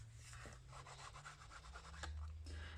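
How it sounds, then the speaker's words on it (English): An ink pad rubs along the edge of a mixed-media art folder in a quiet, rapid series of soft rasping strokes, close and faint, with a slightly louder scrape near the end. "I'm just rubbing my pad, as you can see, almost I'd say 45-degree angle."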